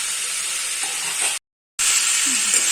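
Chicken sizzles in hot oil in a pan, a steady dense crackle broken by a brief gap of silence before the frying resumes just as loud.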